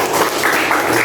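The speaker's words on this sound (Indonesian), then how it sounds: "Tepuk tangan buat semuanya." A classroom of students claps together, a brief burst of dense, even applause, loud and close with no voices over it.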